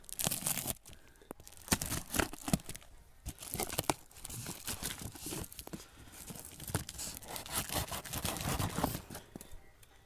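A gift package from a mountain birthday surprise is torn open, with loud close ripping, crinkling and crunching of wrapping in irregular bursts.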